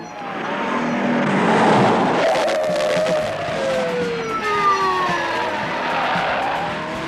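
Tires squeal loudly as the orange 1969 Dodge Charger General Lee from The Dukes of Hazzard skids and tips onto two wheels, followed by a long wailing tire screech and engine roar.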